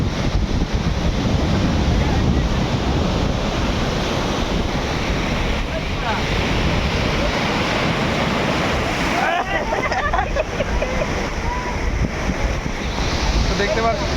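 Sea waves roar and strong wind buffets on Kuakata beach at night, a loud continuous wash of surf with heavy wind rumble on the microphone throughout.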